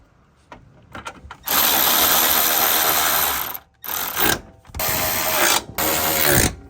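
A ratchet reinstalls the four radiator fan shroud bolts on a Toyota Tundra, sounding as loud, fast buzzing clicks in several long runs separated by brief pauses, close and alone.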